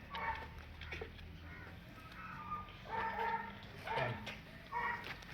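A neighbour's dog on a Pakistani dairy farm barks in several short bursts of two or three yelps, moderately distant over a low ambient hum.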